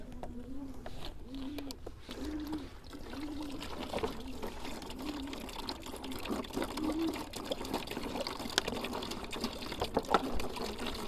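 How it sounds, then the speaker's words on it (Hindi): Roughly 20 to 25 litres of water pours into a tub for a batch of red sharbat, a steady continuous splash and trickle running the whole time, with a faint repeating hum underneath. "तकरीबन 20 से 25 लीटर पानी जो है इस टब के अंदर जाएगा।"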